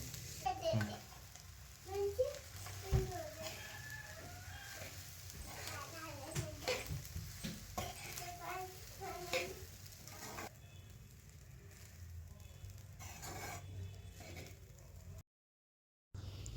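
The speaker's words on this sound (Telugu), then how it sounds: "ఉడికించిన అన్నం వేసి బాగా కలుపుకోవాలి." Cooked rice stirred into a seasoned egg mixture in a pan for egg rice makes a soft sizzle with irregular scraping stirs. A quiet voice is faintly present, and a brief silent gap comes near the end.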